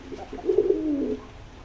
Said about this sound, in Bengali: ছেলে কবুতরটা কিন্তু বারবার দেখেন গলা ফুলিয়ে ফুলিয়ে ডাকতেছে